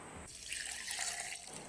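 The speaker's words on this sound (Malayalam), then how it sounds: "ഈ തേങ്ങ ഈ മിക്സിൻ്റെ ജാറിൽ ഇട്ടിട്ട് അതിൻ്റെ കൂടെ നിൽക്കുന്ന രീതിയിൽ വെള്ളം ഒഴിച്ചു കൊടുത്തതിന് ശേഷം നന്നായിട്ടൊന്ന് അരച്ചെടുക്കുകയാണ്" Water pours steadily into a mixer jar holding roasted grated coconut, a brief soft trickling splash heard alone in a kitchen while preparing a coconut paste for beef curry.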